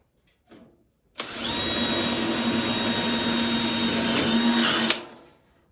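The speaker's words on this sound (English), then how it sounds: "now we need to put in the rest of the support screws." A power drill drives support screws into a homemade forge, giving one continuous, fairly loud high whine for several seconds that ends abruptly, with quiet before and after.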